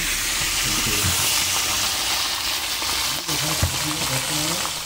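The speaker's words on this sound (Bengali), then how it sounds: "মাছের মাথাগুলো ভেজে নিচ্ছি।" Fish heads frying in hot oil give a loud, continuous sizzle and hiss with faint stirring clatter throughout, close and steady, with a brief scrape near the end.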